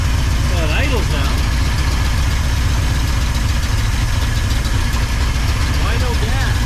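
A 1979 Ford F-250 truck engine idles steadily and close by, a continuous low rumble filling the whole stretch, with faint voices briefly over it.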